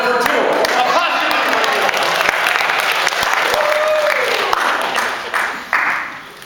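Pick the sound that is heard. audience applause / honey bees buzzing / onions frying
audience applause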